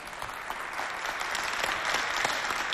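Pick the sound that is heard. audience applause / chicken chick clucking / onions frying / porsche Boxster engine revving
audience applause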